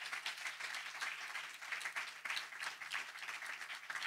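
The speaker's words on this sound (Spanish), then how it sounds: "Denle un aplauso" A church congregation breaks into sustained applause, many hands clapping densely and evenly throughout, filling the room without a break.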